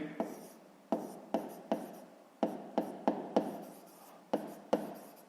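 Pen strokes on paper while working a fifth-grade math exercise, a series of about a dozen sharp taps and short scratchy strokes, close and quiet.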